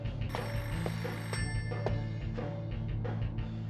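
A telephone rings steadily inside a house in the Know by Heart video game, a bright repeating bell over a low constant hum, with no voices.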